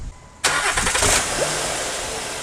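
A high-mileage Honda engine, just fitted with a new timing belt, cranks and fires: a sudden loud catch after a quiet moment, a brief rev, then it settles into a steady idle.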